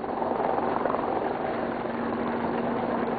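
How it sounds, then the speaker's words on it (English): Helicopters search the water off the Falklands after a ship explosion, a steady, loud rotor and engine drone with a low hum and no talk. "Helicopters scoured the water in case anyone had been thrown in by the blast."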